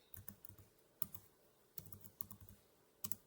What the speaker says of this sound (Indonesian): Soal ketik IP address.